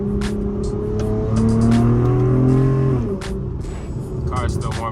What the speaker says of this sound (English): The tranny is not warm yet, so my downshift sound like bullshit right now.